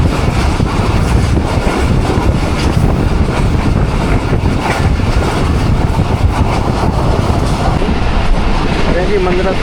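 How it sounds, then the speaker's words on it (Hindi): Awam Express passenger train passing through Ghungrila railway station at high speed, a loud, continuous roar of rushing wheels and rail noise that holds steady throughout, with faint voices in the background. "घुंगरीला रेलवे स्टेशन से ट्रेन हमारी पास हो रही"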